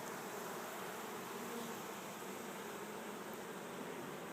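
Honey bees swarm around an open hive frame holding honey, pollen and brood, giving a steady, dense buzzing hum that fills the whole stretch with no pauses and no voices.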